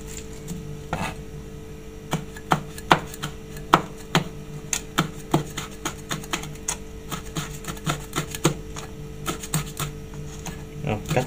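A knife chops chili peppers on a cutting board in a home kitchen, crisp irregular taps coming in quick bursts, close and clear, with people talking faintly in between.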